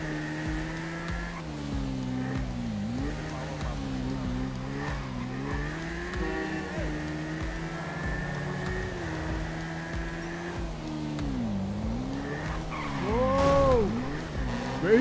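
Car in GTA V driving with a steady engine drone, tyres squealing in several long skids that rise and fall, with louder screeching near the end.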